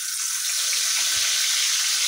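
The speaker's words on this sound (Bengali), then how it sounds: "এখন আমি মাথাটাকেও সুন্দর করে ভেজে নিব।" A rohu fish head fries in hot oil in a pan, giving a steady, bright hissing sizzle that runs continuously, close and fairly loud.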